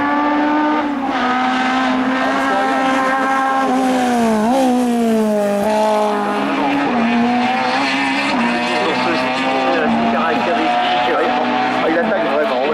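A hill climb race car at full attack on a French national course tears past with a loud, sustained engine howl, its pitch rising and dipping through gear changes, steady and close throughout with a commentator talking over it.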